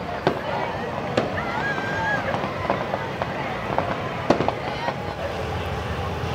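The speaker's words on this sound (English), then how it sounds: "And now we have a fireworks show at the same time." A fireworks show on the opening day of the Texas State Fair: scattered sharp pops and bangs, several loud ones, ring out over a constant din of crowd chatter and voices.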